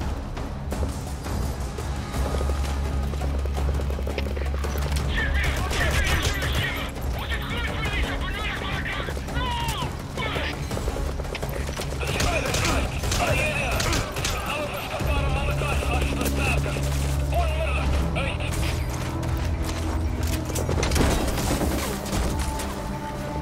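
Gunfire in the stealth action game Metal Gear Solid V: The Phantom Pain, scattered shots and crashes mixed into a loud game soundtrack with steady music and frequent talking over it.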